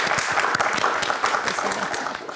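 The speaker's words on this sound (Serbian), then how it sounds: "Molim vas jedan aplauz za Miloša" A TV quiz studio audience claps for the IT expert introduced on the show, a dense burst of applause sustained throughout at moderate loudness.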